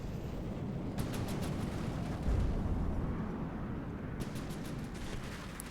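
Torpedoes firing and exploding in the naval game From The Depths: a loud, steady low rumble with a heavier surge midway, overlaid by repeated faint clicks, with no talk over it.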